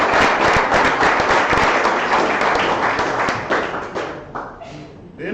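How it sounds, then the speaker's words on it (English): Applause from the audience at a mayoral debate in Myrtle Beach, loud and dense clapping that fades gradually toward the end. "Let's give him a round of applause."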